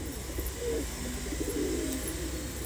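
Lineage breeding pigeons coo in a loft, soft rolling calls rising and falling a few times over a quiet, hissy background, moderately close and not very loud, with no talking.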